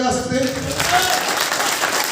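Loud applause from an audience at a hotel gathering in New Delhi, a dense continuous clatter of hands with a voice speaking over its start.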